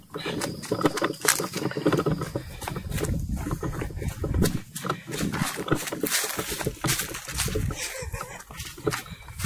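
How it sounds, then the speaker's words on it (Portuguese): Cattle charging at people outdoors on a rural fishing trip, with heavy hoofbeats, rustling and bellowing-like noise continuous and close throughout, mixed with scuffling movement. "a vaca deu uma correria em nós aqui agora"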